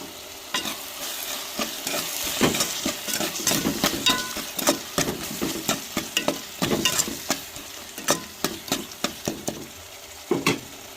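Squid pieces frying in a pan with tomato, onion, ginger paste and chilli powder, with a steady sizzle broken by repeated sharp scraping stirs from a spoon, close and moderately loud.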